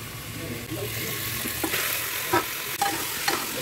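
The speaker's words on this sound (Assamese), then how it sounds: "চিকেনখিনি মই ভালকে লৰাই দিছো যাতে মছলাখিনি চিকেনত সোমাই যায়" Local chicken being stirred into frying spice paste in a pan, with a continuous close sizzle broken by several sharp scraping and clattering strokes of the spoon.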